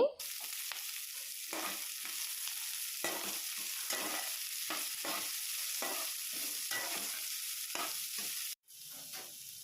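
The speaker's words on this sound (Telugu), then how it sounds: "లో ఫ్లేమ్లో పెట్టుకొని ఫ్రై చేసుకోవాలండి పచ్చిమిరపకాయలు ఉల్లిపాయలు వేసుకొని ఫ్రై చేసుకోవాలండి" Green chillies and onions fry over a low flame for an onion and fenugreek curry, giving a steady close sizzle broken by repeated stirring scrapes, with a brief dropout near the end.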